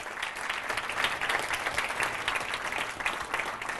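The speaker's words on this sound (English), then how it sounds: "Can we just get one more round of applause for Kwasi?" A small audience at a talk gives a guest speaker a round of applause, brisk dense clapping close by and fairly loud, sustained without pause.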